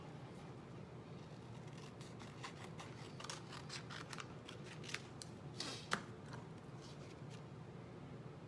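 Scissors trimming a papercraft embellishment for a Christmas scrapbook layout, a run of quick close snips and paper rustles with a sharper cut near the end, faint and without talk.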